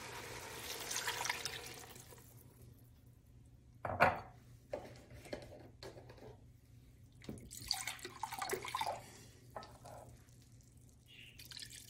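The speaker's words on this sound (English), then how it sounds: "Add your broth." Broth poured into a pot of Italian soup, a wet splashing rush over the first two seconds, followed by scattered knocks and clatters of kitchen work.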